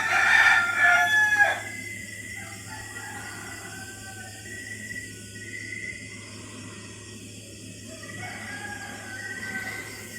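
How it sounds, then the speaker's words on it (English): Roosters crow at a rural spot in Malapoc Sur, Maasin City, Southern Leyte, Philippines, a loud crow at the start followed by fainter, distant calls over a steady low background hum, with no talk. "It'd be very peaceful if it wasn't for the roosters."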